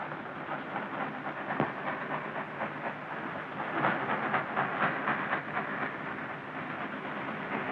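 Train passing on a railway, a steady rumbling roar with rhythmic clatter swelling slightly midway, heard at moderate distance without talk.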